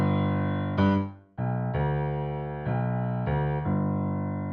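Slow blues left-hand pattern in G on piano: sustained chords changing every second or so in an even, unhurried rhythm, close and clear with a short gap after the first, no speech.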